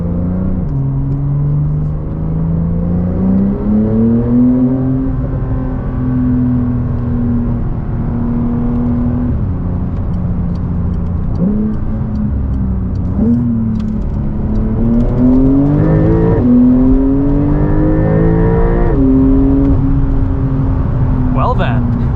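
A 2021 Porsche 911 Turbo S in Sport Plus mode accelerates hard from the cabin, its engine climbing through repeated rising pulls and gear shifts with a steady rumble, while a voice talks over it.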